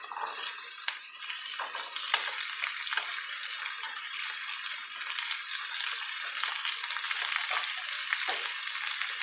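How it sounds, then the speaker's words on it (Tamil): Onion and ivy gourd fry in a pan for chutney, a steady moderate sizzle with scattered stirring clicks and scrapes throughout. "கோவக்காய் நல்லா வதங்கணும்"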